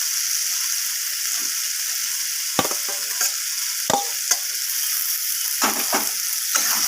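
Fried pointed gourd sizzles steadily in a frying pan while a spoon stirs it, giving a few sharp scraping knocks over the continuous hiss.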